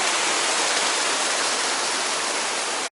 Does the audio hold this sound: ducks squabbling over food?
no